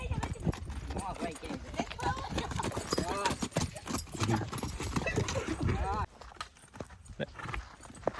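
A mare moves with clip-clopping hooves and gives whinnies, heard close under loud, continuous talk from people nearby.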